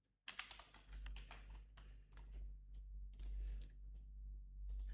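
Typing on a computer keyboard, quick close clattering keystrokes in bursts with short pauses, over a low steady hum.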